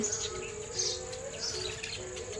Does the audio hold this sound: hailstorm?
no